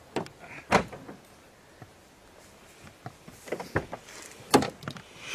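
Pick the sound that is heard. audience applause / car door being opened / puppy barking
car door being opened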